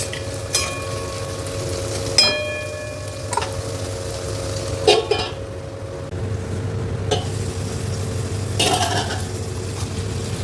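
Capsicum and cashews frying in a pan for a paneer dish, with a steady low sizzle and occasional clinks and scrapes of a spoon against the pan.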